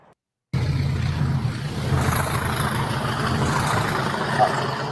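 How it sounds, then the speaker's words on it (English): A ScotRail Class 47 diesel locomotive rumbles nearby with a steady low engine drone that holds for several seconds. "That's a ScotRail Class 47 there."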